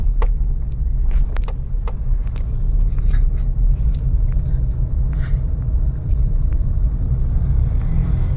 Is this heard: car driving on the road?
yes